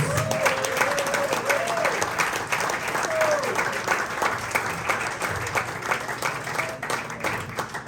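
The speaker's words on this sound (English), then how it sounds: "let's give these guys a round of applause" An audience at a basketball tip-off party gives a round of applause, steady clapping at moderate level with a few voices and crowd murmur mixed in.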